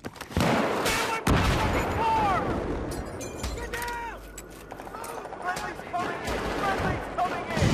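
Two or three gunshots from an RSAS rifle in the Battlefield 3 video game, set on a train ride, sharp and fairly close, with a voice talking over the shots and other game noise.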